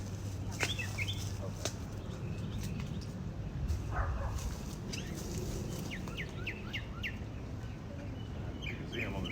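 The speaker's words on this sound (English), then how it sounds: "catch that bird on the top of the light pole?" A bird perched atop a light pole whistles and chirps in short repeated phrases against a steady outdoor hum on a Dallas street, with occasional faint voices in the background.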